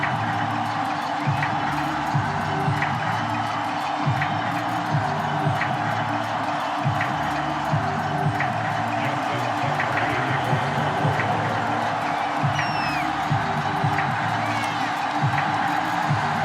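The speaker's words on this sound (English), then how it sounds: "The two teams emerging from their respective tunnels a minute ago to the approval of this Baltimore crowd" Large home crowd of Baltimore Ravens fans cheering in a stadium ahead of a game against the Cleveland Browns in Madden 22, a steady broad roar with some whoops, continuous throughout under commentary.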